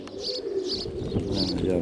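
Soft, repeated cooing of pigeons close by, layered under someone talking.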